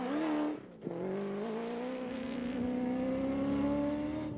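A rally car, such as a Regent Racing Nissan Navara, racing through narrow sugarcane fields, its engine holding a loud, steady high-revving drone after a brief gear change, close and continuous.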